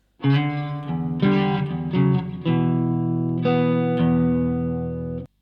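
A gritty, distorted electric guitar plays a short riff from a song's intro, chopped chords and slides, ending on a long sustained chord that cuts off.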